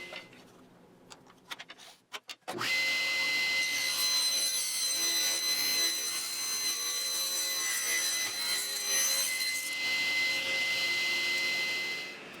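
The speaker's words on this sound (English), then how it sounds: "I cut down a bunch of walnut strips and then I ripped them to width over at the table saw." Table saw ripping walnut strips to width: a few clicks and knocks, then the motor spins up into a loud, steady whine that holds for about ten seconds before the cut winds down.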